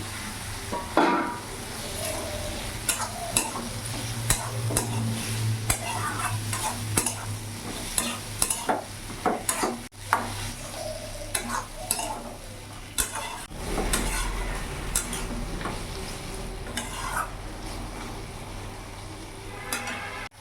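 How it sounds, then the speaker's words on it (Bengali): Spoon stirring fried potato and ridge gourd into a bata fish curry in a pan, with a continuous scraping rhythm over a steady low sizzle and occasional clinks against the pan. "এবার ভেজে রাখা আলু ঝিঙেগুলো দিয়ে দিলাম।"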